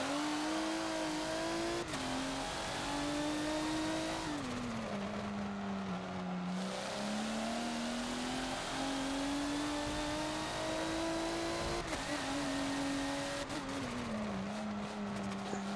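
A Le Mans prototype LMP1 race car in a Forza racing game on the Indy GP circuit, its engine a steady loud high-pitched drone that rises and falls with gear changes across the whole stretch, with no talk.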